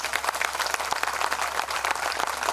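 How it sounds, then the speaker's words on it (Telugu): A temple audience applauds steadily through a devotional discourse, many hands clapping in a dense, continuous wash at moderate loudness, with no talk over it. "గట్టిగా చప్పట్లు కొట్టండి"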